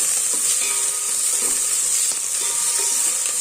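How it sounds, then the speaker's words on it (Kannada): Onion and curry leaves frying with mustard seeds for a simple bachelor-style sambar, a steady close hiss and sizzle with faint crackles and light stirring clinks throughout, no voices. "ಆನಿಯನ್ನು ಮತ್ತು ಕರಿಬೇವು ಕಲರ್ ಚೇಂಜ್ ಆಗೋವರೆಗೂ ಫ್ರೈ ಮಾಡ್ಕೋಬೇಕು"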